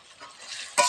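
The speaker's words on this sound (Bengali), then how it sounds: "হালকা করে নেড়ে দেব।" Potatoes frying in oil are stirred in a pan, giving a soft sizzle that builds and ends with a brief bright scrape of the utensil.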